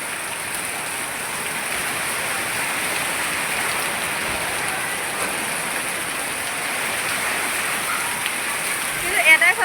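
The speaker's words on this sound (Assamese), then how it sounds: "বতাহো বহুত ডাঙৰকৈ মাৰিছে।" Steady heavy rain lashed by strong wind makes an even, unbroken hiss throughout, with a few louder bumps right at the end.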